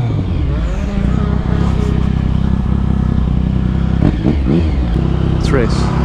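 A Triumph Speed Triple 1050 motorcycle engine rumbles loudly and steadily, then revs in a few quick rising bursts near the end, while people talk over it.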